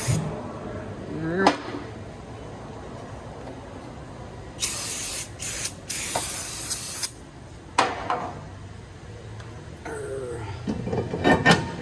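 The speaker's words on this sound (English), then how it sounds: "we're just gonna do a quick spray down" Several bursts of aerosol spray hiss onto the front brake parts of an Infiniti Q50, some short and one longer sustained blast, with clanks and handling noises in between.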